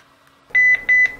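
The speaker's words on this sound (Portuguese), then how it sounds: "Ela fez um bip." Two short electronic beeps in quick succession from an XP968 IP camera, clear and fairly loud against a quiet background.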